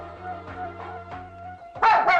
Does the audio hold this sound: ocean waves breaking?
no